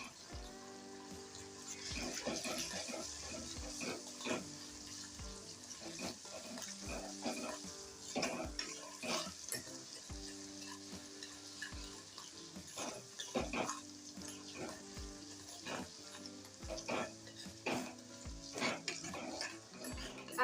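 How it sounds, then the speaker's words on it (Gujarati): Garlic and ginger roasting slowly on a low gas flame for chutney, giving a steady soft sizzle with frequent clinks and scrapes of a stirring spoon against the pan throughout. "આ રીતે આપણે એને પાંચેક મિનિટ આ રીતના શેકવાનું છે એકદમ ધીમા ગેસે"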